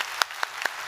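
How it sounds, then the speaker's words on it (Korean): A few sparse claps of welcoming applause for a missionary from Thailand at a Korean church Sunday service, faint and brief, spaced at an even pace. "잠깐 일어나서 인사하실 때 우리 환영의 박수"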